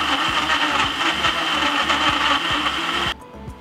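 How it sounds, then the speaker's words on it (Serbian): A kitchen blender whirs as it purées peeled tomatoes, a loud close motor drone with a rhythmic chopping pulse that cuts off abruptly near the end, leaving a faint hum. "Ovako oljušten paradajz spuštam u blender."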